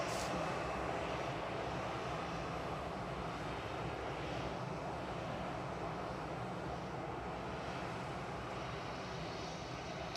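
An Air Baltic airliner's engines run at Manchester Airport, a steady, distant broadband roar holding evenly throughout with no voices over it.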